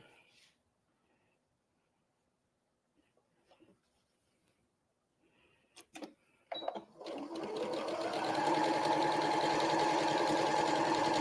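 A sewing machine stitching a quarter-inch seam on a quilt, a few short stops and starts after quiet handling noises, then a steady fast whirring run that holds to the end.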